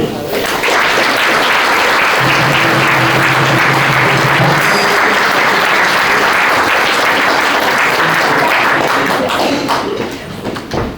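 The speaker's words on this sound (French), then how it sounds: "On peut l'applaudir." Loud, sustained audience applause at a mayor's 2024 New Year wishes ceremony, a dense wash of many hands clapping for about ten seconds with a faint tonal hum beneath, then tapering off at the end.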